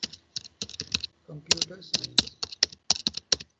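Crisp clicks from a computer keyboard fall in quick bursts and irregular runs, close and clear. A voice speaks briefly in the middle of the typing.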